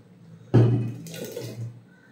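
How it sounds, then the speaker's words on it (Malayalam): Water poured into a pot of raw mango pulissery, a single close splash and gurgling pour that swells suddenly, then trickles off over about a second. "ആവശ്യത്തിന് വെള്ളം കൂടെ ചേർത്ത് കൊടുക്കാം"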